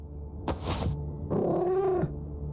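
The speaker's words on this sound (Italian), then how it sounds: "un attimo che diamo da mangiare al gatto" A domestic cat being fed gives two drawn-out vocal calls, a short one followed by a longer, rising-and-falling meow, close to the microphone in a quiet room.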